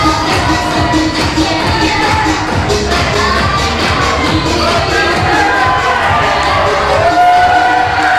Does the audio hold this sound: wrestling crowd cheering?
yes